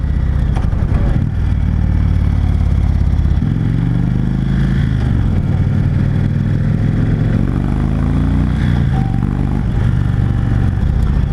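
A 2016 Indian Chief Dark Horse motorcycle engine pulls hard under throttle on a test ride, a loud, close, deep rumble rising and shifting in pitch through several surges, with wind and road clatter mixed in.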